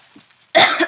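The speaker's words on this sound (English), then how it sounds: "I have the coughs." A single hoarse cough, close and loud, bursts out after a brief quiet moment and then trails off.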